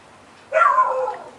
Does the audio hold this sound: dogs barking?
yes